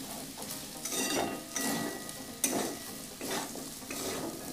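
Potatoes coated with turmeric, chili and cumin powder being stirred in a hot pan, a close continuous sizzle broken by repeated spatula scrapes in an uneven rhythm, no voices.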